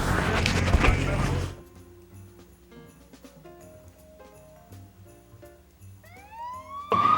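After a burst of loud noise at a Christmas parade, quiet ambience gives way to a rising, wailing police car siren sweeping upward near the end, fairly close and loud.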